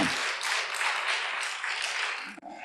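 A church congregation applauding together, a dense burst of clapping that fills the room at moderate loudness, then cuts off abruptly near the end.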